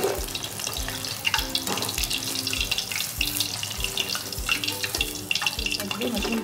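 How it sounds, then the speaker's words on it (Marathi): Mushroom pieces frying in oil in a pan, a continuous close sizzle and crackle with rhythmic low knocks of stirring against the pan throughout. "अशा प्रकारे आपण मशरूमचे सर्व पीस तळून काढणार आहोत"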